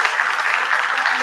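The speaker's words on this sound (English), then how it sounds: "round of applause for them" A dense burst of clapping from a crowd, steady and fairly loud throughout the brief moment.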